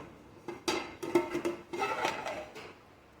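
A lid comes off a pot of vegetable biryani with a few close metallic clinks and scrapes, clustered knocks of metal on metal before the clatter fades to quiet.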